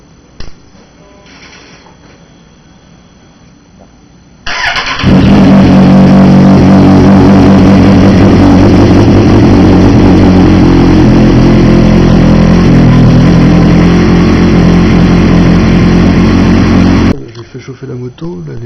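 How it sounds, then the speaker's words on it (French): A Kawasaki Z750R motorcycle engine starts after a brief stretch of quiet and settles into a loud, steady idle close by as it warms up, then cuts off, leaving near-silence. "je vais faire chauffer la moto déjà pour que l'huile soit un petit peu plus fluide"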